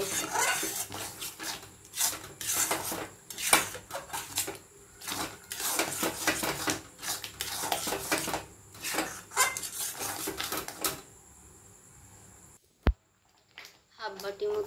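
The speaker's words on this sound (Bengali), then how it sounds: "ভালো করে নাড়াচাড়া করে নেব।" Palm fruit and milk kheer stirred in a pot, a steady rasping scrape of a spoon against metal repeating in quick strokes, close and fairly loud, then a brief sharp clink near the end.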